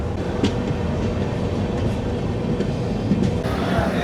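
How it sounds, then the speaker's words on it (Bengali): The Tamralipta Express, a passenger train running from Digha toward Howrah, heard from on board as a steady, loud rumble of wheels on rails with faint rhythmic clatter. "আমাদের ট্রেন ছাড়লো রামনগর বেঙ্গল স্টেশন"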